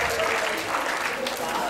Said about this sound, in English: We can give a round of applause for the participants.